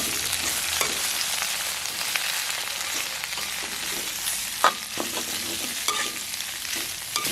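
Green chilies and curry leaves fry in hot oil over high heat, giving a loud, continuous sizzle with occasional pops and stirring scrapes, close up and without speech.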